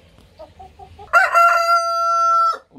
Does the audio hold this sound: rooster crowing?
yes